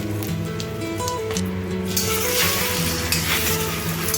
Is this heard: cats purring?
no